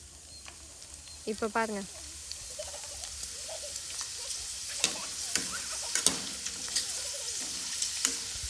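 Wheel chips frying in hot oil with the stove switched off, giving a soft continuous sizzle with faint crackles and stirring clicks, while a voice speaks briefly near the start.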